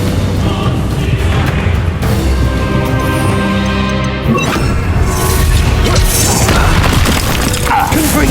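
Confringo explosive spell detonates in Hogwarts Legacy combat, a loud booming blast with crashing, debris-like impacts and rumbling tail, followed by further thuds and clashes.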